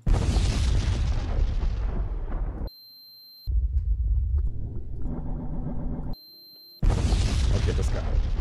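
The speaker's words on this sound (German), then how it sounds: "Bomb, Ex Nuclear Explosion." A loud, deep nuclear explosion in Minecraft rumbles with a broad roar, breaks off into silence, returns with distant booms, then another heavy blast hits.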